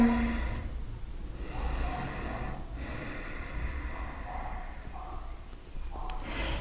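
Slow, deep breathing during a yoga session, with soft inhales and exhales repeating over a steady low background, heard close and quiet.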